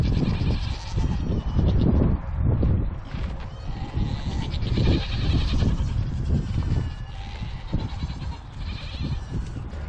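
Two goats, Cammie and Maddie, bleat loudly and repeatedly at close range while being walked on leashes, their cries overlapping a steady shuffling background with no talk.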